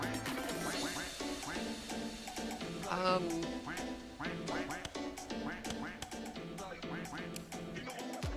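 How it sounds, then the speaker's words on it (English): Ducks quack repeatedly in the Red Snow video game demo, a steady run of loud, close calls laid over game music, with a brief louder burst partway through. "Why are there ducks quacking?"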